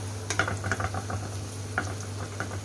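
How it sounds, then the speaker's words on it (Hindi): Onions, raisins and carrots fry in a pan for a pulao, a steady soft sizzle under scattered clinks and scrapes of a spoon stirring, close and moderately quiet. "इसमें हम ये किशमिश और ये कैबेट ऐड कर देंगे। फिर इसको हम इस तरीके से फ्राई कर लेंगे।"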